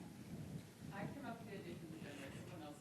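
Heavy rain falls outside with thunder, a low steady rumble and wash of rain under a voice speaking over it.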